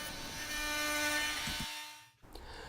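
Excess flooring is cut off along a straight-edge board with a power tool, giving a steady close whirring cut that winds down and stops near the end, followed by a brief clatter.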